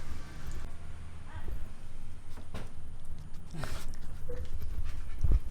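Dogs pant and whimper close by outdoors on a hot day, producing a continuous breathy rhythm with soft thumps underneath and no talking.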